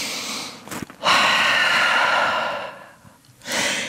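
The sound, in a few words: deep breathing in downward dog yoga pose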